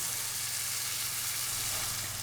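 Steak searing in a hot pan just after being flipped, a steady, dense sizzle of fat and meat juices, constant and close with no talk.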